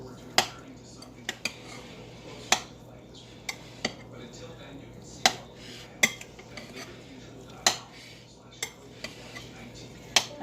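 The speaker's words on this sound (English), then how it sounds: "I am just going to stir this around very gently" A spoon gently stirs potato salad in a bowl, giving sparse, sharp clinks and scrapes against the dish at an irregular pace, close and fairly quiet, with faint background hum.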